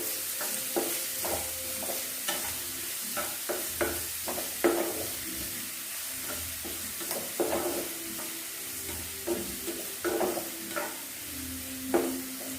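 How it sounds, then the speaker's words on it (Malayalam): Mushrooms sauté with salt over medium heat in a pan for a pepper roast, a spoon stirring and scraping in repeated close strokes over a soft, steady sizzle. "മീഡിയത്തിലിട്ടിട്ട് ഇളക്കിയാൽ മതി. വേഗം വഴന്ന് കിട്ടാൻ ഉപ്പ്."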